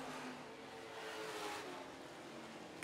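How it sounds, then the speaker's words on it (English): Street stock race cars circle a dirt oval at Lancaster Motorplex during heat races, a steady, distant engine roar that swells slightly mid-clip and holds without a break. "So you head down the back stretch into third for Barber and Gustafson."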